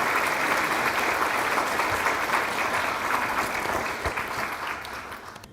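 Audience applause at a police memorial and awards ceremony, a full, continuous burst of many hands clapping that holds strong and then gradually tapers off toward the end.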